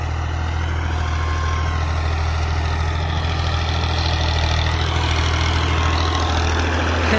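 A New Holland Ghazi 65 HP tractor, 2022 model, idles steadily with a deep, constant diesel rumble close by, unbroken and alone for the whole stretch.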